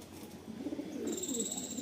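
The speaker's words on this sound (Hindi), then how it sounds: "ये देखो दोस्तों, ये लाल छापदार रामपुरी कबूतर है।" A red-spotted Rampuri pigeon gives a soft, low coo close by, a short throaty murmur rising slightly, with a faint high electronic tone in the background.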